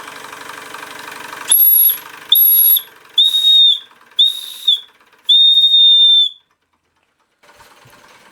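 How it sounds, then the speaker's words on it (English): Whistle on a Stirlingkit Retrol SE-02 model steam engine gives five clear, shrill blasts, short toots then a longer one, over the engine's soft running noise, followed by near silence. "Nice tone on that whistle, actually."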